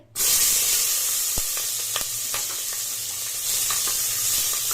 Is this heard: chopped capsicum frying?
yes